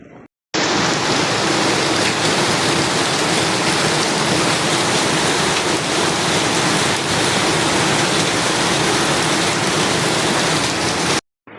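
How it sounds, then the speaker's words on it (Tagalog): Steady, dense roar of heavy rain with rushing wind, loud and unbroken throughout, no voices. "Kusog ang hangin, kusog na pud ang ulan no."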